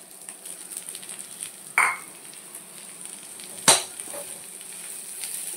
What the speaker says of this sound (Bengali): এবার এই পেঁয়াজ রসুনটা ভাজা ভাজা হবে